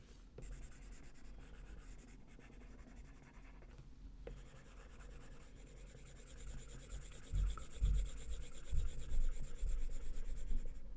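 Markers or colored pencils scratch and rub steadily across paper while a cartoon Marshmallow Martian character is filled in, a close, continuous scribbling texture that grows a bit louder with heavier strokes near the end.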